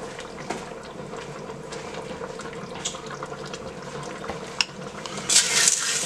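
Beef goulash with macaroni stirred in a pot, soft wet scraping and sloshing under a steady low background, a few small clinks and a brief louder splash near the end, no voices.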